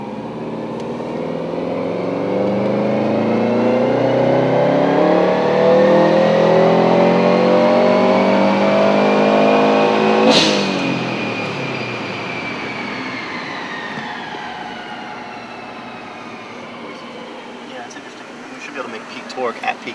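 Subaru Legacy 2.5GT turbo engine revving on a tuning run, a loud sustained rising drone that climbs to a peak, cuts off sharply, then winds down with a falling pitch.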